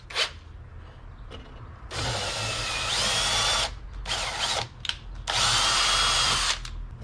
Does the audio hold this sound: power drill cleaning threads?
yes